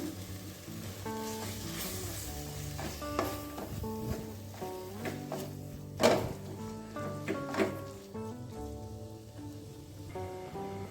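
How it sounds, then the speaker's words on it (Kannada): Masala mixed with ground coconut sizzles and fries in a pan while being stirred, a steady crackle under background music, with a few sharper scraping accents. "ಮಸಾಲ ಚೆನ್ನಾಗಿ ಫ್ರೈ ಆಗಿದೆ"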